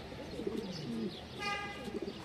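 Low cooing from a captured stray pigeon comes close and repeated, and a brief higher chirp cuts in partway through.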